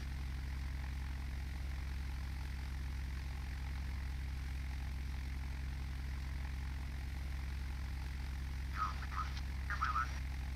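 A Carenado F406 Caravan rolls down the runway in Flight Simulator X, its propeller engines droning in a steady low hum with faint rattles toward the end.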